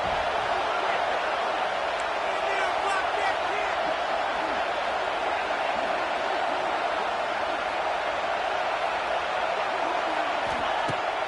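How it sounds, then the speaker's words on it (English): Stadium crowd roaring in a College Football 26 video game, a dense, steady wash of cheering and noise that holds at a loud, even level for the whole stretch with no break. "Listen to this crowd just shaking the girders of this place"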